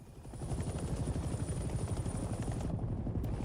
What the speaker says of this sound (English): We are now airborne. Let's get familiar with the 3 primary helicopter rotations